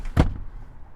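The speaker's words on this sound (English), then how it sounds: "hit the button, they can open the door and get out." A second-row door of a 2021 Honda Pilot Touring SUV is operated: one sharp, close mechanical clunk, followed by a quiet decaying tail and no talking.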